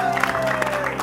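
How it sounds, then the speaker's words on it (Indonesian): Studio audience applause for a guest on a television talk show, a short burst of clapping with some crowd noise beneath a speaking voice. "tepuk tangan buat Kartika Berliana"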